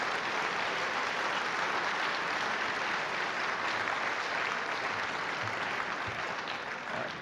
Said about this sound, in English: Please give another round of applause for Peter Brimelow and Bumper Hornberger for their great job.